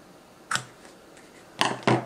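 Scissors snip through washi tape on a journal page, two or three quick, crisp cuts set in quiet surroundings.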